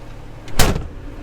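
A single solid metallic clunk of a Jeep Wrangler door being removed, with a brief rattle before it and quiet after.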